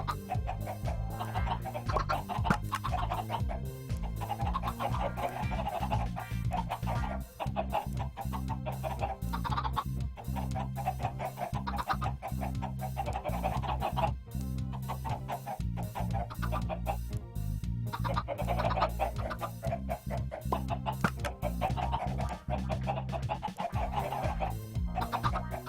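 Minecraft chickens cluck continuously at an automatic chicken cooker farm, a dense, overlapping stream of game clucks that stays steady throughout.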